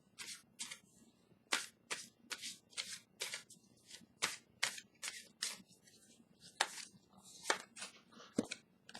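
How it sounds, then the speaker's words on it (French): Tarot cards being shuffled by hand, a run of crisp riffling bursts and slaps that come in quick uneven clusters, close up and fairly quiet, with no talking over them. "Je vais piger une carte pour vous des messagers de l'univers pour le signe de la Vierge."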